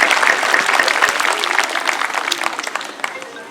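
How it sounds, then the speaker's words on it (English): An elementary school audience at a Veterans Day celebration gives loud, dense applause for a veteran. The steady clapping crowd thins and tapers slightly toward the end. "Please join me in applause and appreciation for Mr. Fuga."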